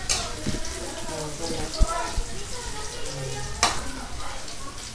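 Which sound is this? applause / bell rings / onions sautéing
onions sautéing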